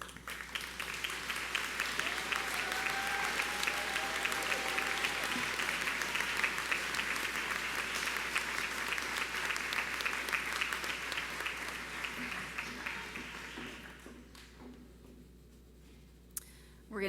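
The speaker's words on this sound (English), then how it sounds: "We're going to do one more round of applause in just a moment." Audience applause at a 2021 nursing pinning and commencement ceremony, sustained dense clapping from a large crowd that holds steady for about twelve seconds before thinning out and fading to a few scattered claps.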